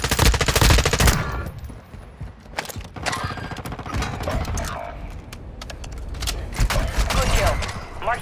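Rapid automatic gunfire from a Call of Duty match, loud bursts of machine-gun fire and scattered shots running through the scene, with voices talking over parts of it.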